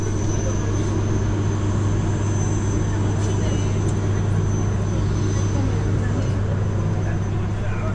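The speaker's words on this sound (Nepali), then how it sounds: "सानो छ एकदम साङ्ग्रो जेट प्लेन हो नि त" A small private jet plane gives a loud, steady engine drone that runs unbroken from start to finish, with a deep hum underneath and a thin high whine on top.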